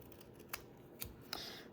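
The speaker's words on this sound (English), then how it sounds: "sometimes it's easier just to do it with scissors" Scissors trimming paper for a Christmas craft project, three quiet crisp snips spaced about half a second apart against a faint background hiss.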